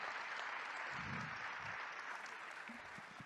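An audience at a talk on politics and economics breaks into applause, a steady, even patter of many hands clapping that stays fairly quiet and distant.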